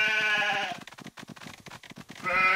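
Cartoon sheep in a Paw Patrol children's numbers game bleat in long wavering calls at the start and end, with soft rapid tapping steps between them.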